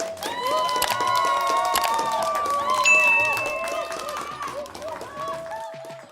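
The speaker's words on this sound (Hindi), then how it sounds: "कहानी शुरू करने से पहले एक बार ताली बजा दीजिए" Applause and cheering from a crowd of children form a dense clapping wash. Bright tonal shouts and voices run over it throughout, and it tapers off toward the end.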